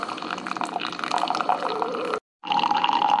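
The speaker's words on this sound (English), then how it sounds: "it's starting to brew the K-Cup" A Keurig K-Slim single-serve coffee maker brews a K-Cup, giving a steady hissing, gurgling stream of liquid that runs loud and close, breaks off for a moment, then resumes.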